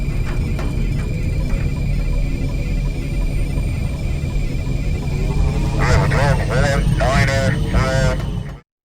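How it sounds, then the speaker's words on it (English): A steady low electronic hum of video game spaceship cockpit ambience fills the space, with a few tonal warbling sweeps rising over it near the end before it cuts off. "filter sounds outside of the ship and play a cockpit ambience"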